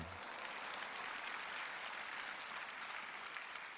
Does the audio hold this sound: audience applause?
yes